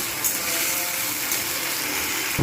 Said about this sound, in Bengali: যাতে না পুড়ে যায় তার জন্য আমি এর মধ্যে একটু জল দিয়ে দিলাম